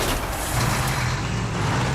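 A cartoon truck arrives with a loud, steady engine rumble and a hiss like an air brake, continuous and close throughout with no talk.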